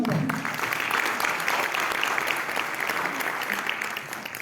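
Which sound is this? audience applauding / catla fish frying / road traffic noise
audience applauding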